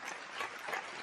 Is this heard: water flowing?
no